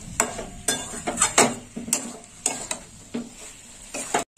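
Soybean chunks stir-fried in a pan, with a spoon scraping and clattering in quick irregular strokes over a soft sizzle, loud and close, with no talking.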